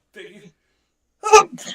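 One short, sharp sneeze bursts out near the end, after a brief soft vocal sound and a pause, close and fairly loud.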